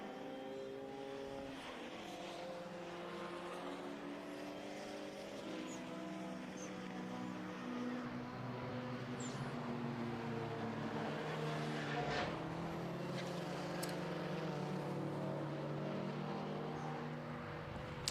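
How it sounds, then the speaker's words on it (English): Race cars, including a Vauxhall VX220 in a time attack and Honda racing event, drive around the Knockhill circuit in Scotland, engines droning and shifting pitch continuously at a moderate distance for the whole stretch. "We just saw the Vauxhall VX220 work its way through"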